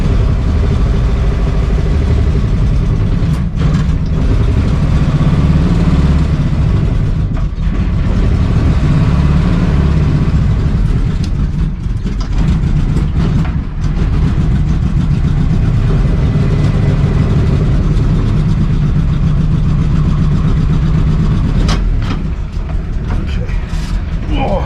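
A 1953 Willys Jeep CJ-3B engine runs close and loud, holding a steady rough drone throughout with occasional knocks and shifts in tone.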